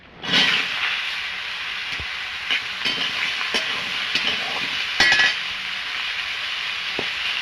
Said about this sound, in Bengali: আমি লাউটা ভালো করে ভেজে নেব